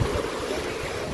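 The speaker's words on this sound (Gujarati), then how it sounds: "મોજા ફૂલ આવે છે ને પવન એટલો જોરદાર છે અત્યારે" Strong sea waves wash onto a beach under gusty wind, producing a dense, continuous roar with low rumble and wind buffeting on the microphone, with no voices heard.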